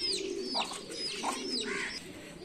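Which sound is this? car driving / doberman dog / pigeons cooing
pigeons cooing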